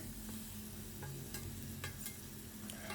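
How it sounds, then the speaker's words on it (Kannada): Marinated country chicken for biryani sizzles in a hot pan and is stirred, giving a soft, continuous frying hiss with small scraping accents. There is no talking. "ಚಿಕನ್ನ ಆ್ಯಡ್ ಮಾಡ್ತಿದ್ದೇನೆ."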